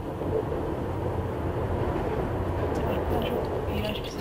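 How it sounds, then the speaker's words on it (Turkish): A train rumbles past in the Mirror's Edge video game, a steady broad low roar filling the whole stretch with faint higher clatter on top. "Tren sesi."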